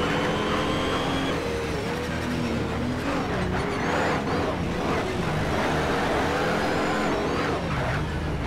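Racing car engines in the Need for Speed: Shift video game roar continuously at high volume, with several cars' revving tones sweeping up and down over a dense road rumble.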